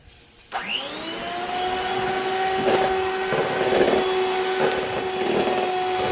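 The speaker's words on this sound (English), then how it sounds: "Then we're going to put the mixer into the egg first." An electric hand mixer starts with a rising whine and runs steadily, beating egg whites with powdered sugar for a mango Swiss roll, loud and close with a constant motor hum and gentle rhythmic swells from the beaters.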